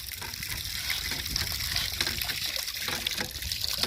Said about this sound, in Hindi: इसकी यहाँ से बह के ये पानी उसमें पहुँच जाता है